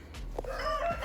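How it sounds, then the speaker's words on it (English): Backyard chickens in a coop crow and cluck loudly and close by, a rooster's drawn-out call rising over the clucking of the flock in one short burst. "Got our birds yelling at us right now."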